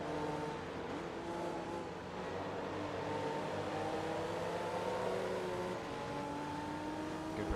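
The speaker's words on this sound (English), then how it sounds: "I literally was just going off the sound of the engine" A race car engine in Forza Motorsport 2 on Xbox 360 drones steadily, its pitch shifting gently up and down as it revs through a lap, with no talking.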